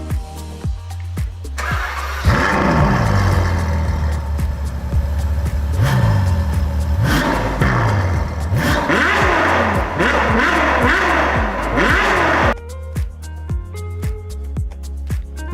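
Volvo S60R car engine after a pump replacement, revving repeatedly in loud, close bursts that rise and fall, with a quieter idle at the start and end and no talking.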